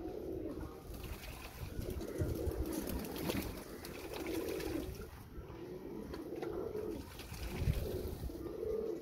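Sultan Serbian pigeons cooing in a loft, a soft, continuous low murmur of overlapping coos with a faint watery background, no speech.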